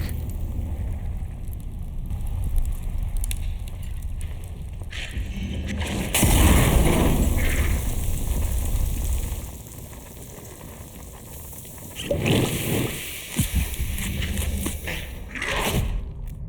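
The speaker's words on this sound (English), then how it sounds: "I fucked up the first Molotov because I panicked." Fire from a thrown Molotov cocktail erupts in the video game Atomfall, a loud whooshing burst that crackles and roars for several seconds before dying down, followed by a few shorter flare-ups.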